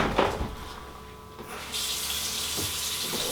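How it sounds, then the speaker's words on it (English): A tap is turned on and water streams steadily and close, rising to a full, even hiss after a short quieter start. "Get some hot water going up here."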